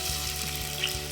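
Onions hit shimmering hot oil in a heated pan, giving a close, dense frying hiss with low rhythmic crackle, brief and steady with no voices.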